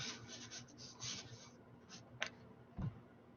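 A pen or marker scratches and rubs while a structural moment diagram is drawn by hand, in steady close strokes, then a few short separate ticks and scrapes. No voices.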